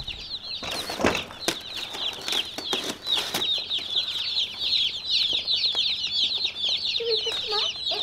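Cornish Cross chicks in a warm brooder, a dense chorus of high, rapid peeping that continues throughout, with a few sharp handling knocks and rustles close by.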